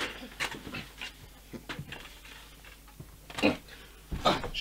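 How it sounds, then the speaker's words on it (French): A neighbor's dog pants in quick, quiet, breathy bursts, irregular and close, with short pauses between the louder puffs. "c'était le chien de la voisine"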